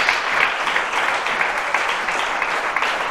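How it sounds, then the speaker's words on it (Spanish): A church congregation applauds in a sustained burst of dense clapping that carries evenly for a few seconds with no pauses. "Dale un aplauso al Señor"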